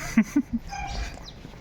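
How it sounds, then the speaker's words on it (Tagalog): A neighbor's dog in a residential street in Lagro, Quezon City gives three quick, close barks in a row, followed by quieter whimpering and background noise. "Ayan, aso ng kapitbahay."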